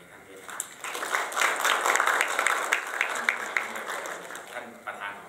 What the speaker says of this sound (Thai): ขอเสียงปรบมือให้ท่านด้วยครับ